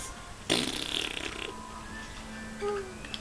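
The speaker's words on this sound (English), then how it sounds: "Is that cheese? Nope, it's my fart." A comic fart sound effect in the Lego Harry Potter video game, a sudden loud blurt followed by a sputtering tail, with game sounds around it.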